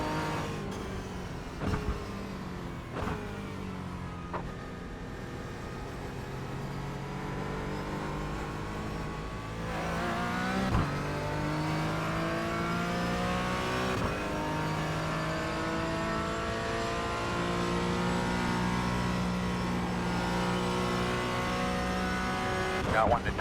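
Porsche Cayman GT4 racing around the Nordschleife in iRacing, engine note climbing and dropping through gear changes with steady revving, at moderate loudness for the whole run.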